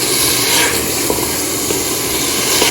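Meat frying in browned masala for daal gosht, chicken or mutton, gives a steady close hiss and sizzle that runs throughout with no talk.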